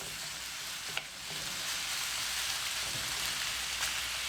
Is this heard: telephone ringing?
no